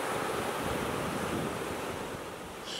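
Ocean surf washing steadily against the shore in a continuous broadband roar, moderately loud and constant with wind mixed in, no voices.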